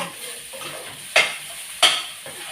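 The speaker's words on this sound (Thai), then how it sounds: "กำลังผัดหมูนะครับผมรวนหมูกับ กระเทียม" Pork and garlic are stir-fried in a pan: a soft sizzle runs throughout, and two sharp scraping stir strokes stand out clearly, close by.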